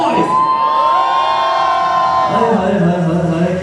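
Guests from the bride's side at a sangeet celebration hoot, whoop and cheer loudly together, a close, sustained crowd roar with high-pitched shouts rising over it.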